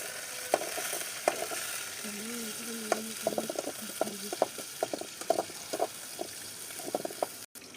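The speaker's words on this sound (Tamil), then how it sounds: "வெங்காயம் போட்டுக்கலாம் சின்ன வெங்காயம் போட்டுக்கலாம் கிண்டி விட்டுக்கலாம்" Shallots frying in a pan over a wood-fired stove, stirred with intermittent scraping and clinking strokes over a steady close sizzle, with no talk.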